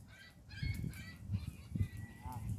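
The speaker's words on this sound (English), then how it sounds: "It's a baby goose." A goose honks near the water in short repeated calls, fairly close and moderately loud, over faint outdoor background.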